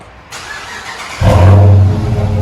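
A 2015 Dodge Charger R/T with a 5.7L HEMI V8 and aftermarket exhaust starts after a brief crank, then settles into a loud, deep, rumbling idle close by.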